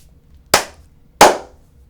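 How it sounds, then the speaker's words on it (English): Two sharp hand claps mark the start of a take on an amateur film remake set, loud and close, spaced about two-thirds of a second apart with brief decays and no talking. "Okay, Cumby, give me a clap."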